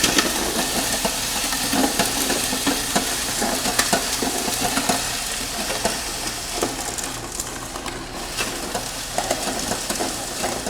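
A mixer churns hot asphalt pavement mix in a bucket, a steady dense stirring and scraping rumble that runs continuously and fairly loud, with no talking over it.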